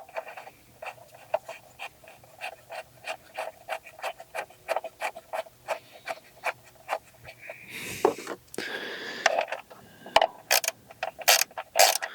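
A hand ratchet snugs spark plugs on a 2.4-liter Mitsubishi Outlander Sport, giving a long run of evenly spaced sharp clicks at close range, then a brief metallic rattle and a few faster, louder clicks near the end, with nobody speaking.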